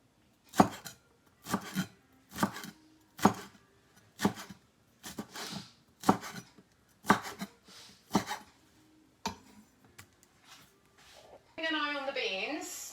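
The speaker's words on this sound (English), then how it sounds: "I'm gonna roll it and just following the instruction of the chef and slice it like so." Knife slicing through rolled food on a cutting board, about a dozen crisp evenly spaced chops close by, a short rustle at the end.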